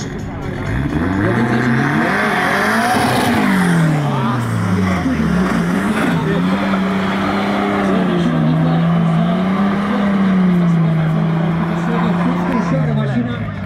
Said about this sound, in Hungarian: Un BMW și un motor de BMW în carcasă de Polski Fiat.